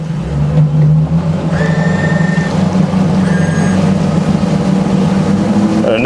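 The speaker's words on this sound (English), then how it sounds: "It's going to turn on the sport exhaust. You can hear it gets a little beefier." A loud, continuous Saxdor 320 GTO boat engine rumble with the sport exhaust on, a deep, throaty tone, steady throughout, with brief high electronic tones sounding twice.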